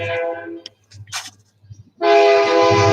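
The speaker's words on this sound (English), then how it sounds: "Here comes the train." A train passes nearby with a loud, sustained horn blast that cuts in after a brief rumble and scattered noise, the tonal horn holding strong to the end.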